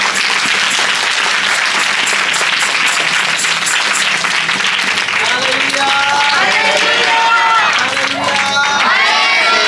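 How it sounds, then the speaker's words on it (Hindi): Loud, sustained clapping fills a church hall as the congregation at the Jammu head office opening applauds, then cheers and shouted voices rise out of the applause toward the end. "और पिता पुत्र पवित्र आत्मा के लिए जोर से ताली बजाएं।"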